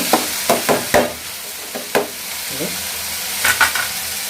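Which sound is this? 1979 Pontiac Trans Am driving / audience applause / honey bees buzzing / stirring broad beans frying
stirring broad beans frying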